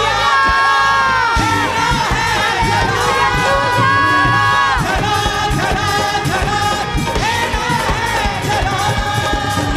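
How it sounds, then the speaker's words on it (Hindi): A church congregation at a Holy Communion Sunday service claps and cheers in praise, a loud dense crowd of shouts and whoops with tonal music or voices running through it, sustained throughout. "ऊपर देखो, खुदा की जितनी ताली बजा के तारीफ कर सकते"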